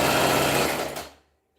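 A sewing machine stitches fabric in a fast, steady whirring run of needle strokes, close and fairly loud, then slows and stops near the end.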